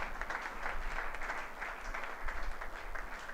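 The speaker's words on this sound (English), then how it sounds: "Give him a loud applause and welcome him." An audience at a theological symposium at a Don Bosco centre applauds to welcome a guest, a steady, even clatter of many hands at moderate volume that holds throughout with no talking.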